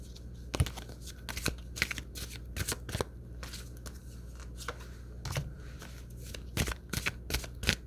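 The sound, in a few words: shuffling tarot cards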